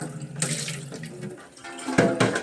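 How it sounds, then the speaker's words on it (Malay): Water is poured into a cooking pot for boiling, a steady close splashing and gurgling stream that swells louder toward the end, with no voices. "Okey, kita masukkan air dalam ni."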